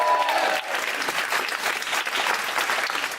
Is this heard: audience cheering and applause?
yes